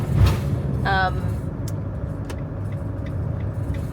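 A van drives along a coastal road, a low steady rumble of engine and tyres close inside the cabin, with a brief squeaky tone and a few faint clicks; speech is also picked up.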